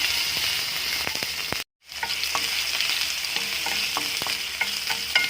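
Garlic fries in oil in a wok with a loud, dense, continuous sizzle, briefly cut to silence, then resuming with scattered stirring clicks and scrapes close by.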